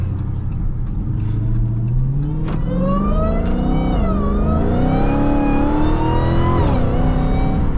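A Dodge Hellcat accelerates hard in traffic, its loud engine note climbing steadily in pitch as it pulls through the gears, close and continuous with no voices over it.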